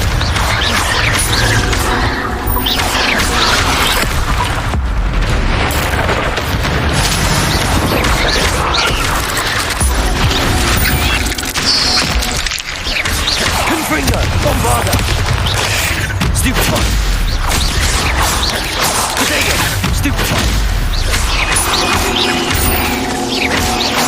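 Spell explosions from Bombarda and Confringo in Hogwarts Legacy burst and crash repeatedly amid dense battle noise, loud and close throughout.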